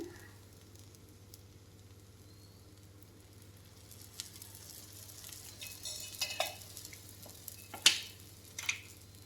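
Idli frying in oil in a pan: a faint, soft sizzle with scattered light ticks and pops that grow busier toward the end, plus a low steady hum underneath.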